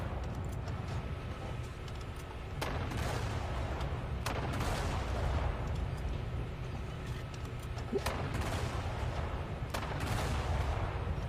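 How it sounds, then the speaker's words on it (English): The main guns of the USS Atlanta warship in the video game War Thunder fire four heavy, booming shots spaced a few seconds apart over a steady low engine and sea rumble. "if we're just talking about this machine's major guns, they look stunning, they sound stunning, and for some reason those guns are firing"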